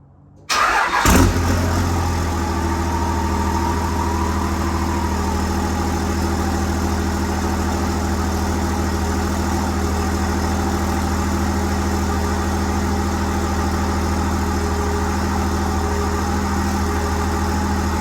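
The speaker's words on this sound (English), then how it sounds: "First start up with the Fleece Cheetah Turbo and the 5-inch exhaust and the S&B cold air intake." A diesel truck fitted with a Fleece Cheetah turbo, 5-inch exhaust and S&B cold air intake cranks and fires, then settles into a steady, loud idle with a faint turbo whine held over the deep rumble for the rest of the clip.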